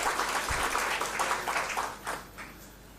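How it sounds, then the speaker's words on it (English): Scattered, fairly quiet clapping from a seminar audience for a speaker, a few separate claps standing out before the applause fades out. "Give round of applause to Mr. Datta."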